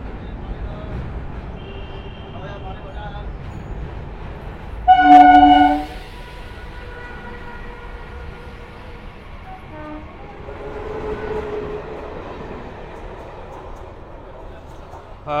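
The Kolkata–Jammu Tawi Express halts at Dakshineswar, its horn blaring once loudly and close amid the steady rumble of the train and surrounding station noise, with a voice talking in the background.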